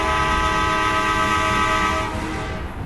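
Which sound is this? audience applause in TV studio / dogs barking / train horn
train horn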